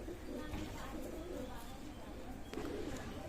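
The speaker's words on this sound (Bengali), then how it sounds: "দেশি জেনারেশন কবুতর আছে" Domestic pigeons of a local breed cooing together in a pigeon loft, a soft continuous low murmur of overlapping coos held steady throughout, with no clear voices.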